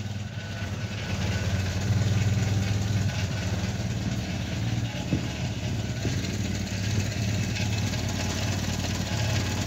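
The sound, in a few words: Renault Cléon car engine idling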